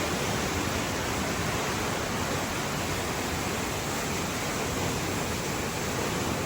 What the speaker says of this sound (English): we got the waterfall coming out right there